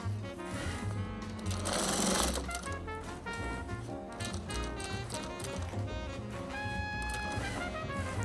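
A sewing machine backstitches fabric for a koozie, its needle hammering in rapid, close, mechanical bursts with brief changes in pace as the stitching reverses.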